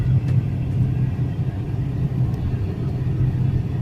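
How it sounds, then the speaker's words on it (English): Heard from inside a Volkswagen Tiguan cruising quiet roads in Darwin, Australia, a steady low rumble of engine and tyre noise fills the cabin continuously. "I am driving a Volkswagen Tiguan."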